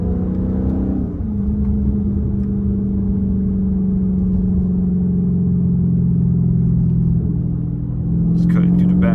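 A straight-piped Dodge Scat Pack with a quarter intake cruising back roads, its engine a loud, close, steady low rumble that drones on evenly, with a slight shift near the start and a brief lift near the end.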